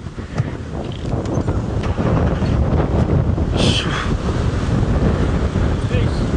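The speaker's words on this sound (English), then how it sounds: "That is gusting, yeah. That is serious." Strong wind buffets the microphone during a sunrise safari drive, a heavy, continuous roar that swells slightly midway, with a faint voice briefly audible beneath it.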